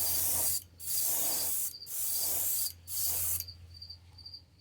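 A spray gun hisses in three long passes over a 1966 Mustang, each steady burst lasting about a second with brief gaps between, close and even, followed by quieter background hum once spraying stops.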